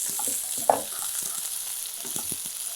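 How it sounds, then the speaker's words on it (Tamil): Onions tipped into hot oil with popping mustard seeds, a steady close frying sizzle with a sharp pop early on and scattered crackles and stirring knocks throughout. "இப்போ கடுகும் பொரிஞ்சு முடிய போகிற ஸ்டேஜு. இதை சேர்த்துக்கலாம்."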